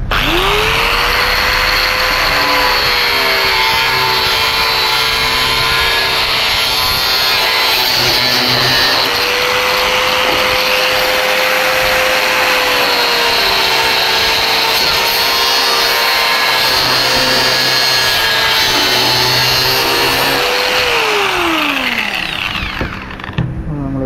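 A power tool cuts through a fiber piece being shaped into a scooter tail tidy, a steady loud whine with sliding pitch running continuously for about twenty seconds before winding down, with no talking.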